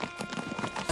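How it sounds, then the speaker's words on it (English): Animated horses' hooves clip-clop in a quick, steady patter as they set off into the desert, brief and moderately loud with no talk over them. "Mufid watched the horses set off into the desert."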